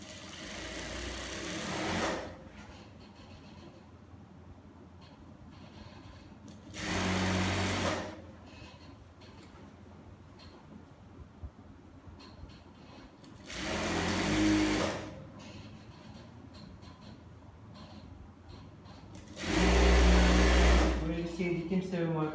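A sewing machine stitching a dress seam runs in four short bursts of about two seconds each, close and loud, with quieter pauses between them and speech heard during the gaps.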